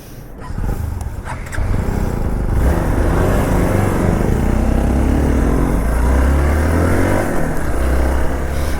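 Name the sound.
motorcycle engine while riding on the road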